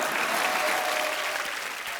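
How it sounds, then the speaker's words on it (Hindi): Audience applause on a Hindi TV comedy show set, a dense, steady wash of clapping from a studio crowd that fills the whole moment without any voices. "आलिया के लिए ताली बजा दो"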